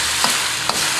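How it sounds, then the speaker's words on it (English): Wood ear mushrooms and eel sizzle in a hot wok with curry, giving a steady bright frying hiss with two brief scraping stirs close by. "Into that, I'm going to add wood ear mushrooms."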